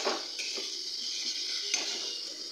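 Masala spices frying on low flame in a pan while being stirred and roasted for an ol (elephant foot yam) curry, a steady soft sizzle with a few faint scrapes of the stirring spoon, close and without talk.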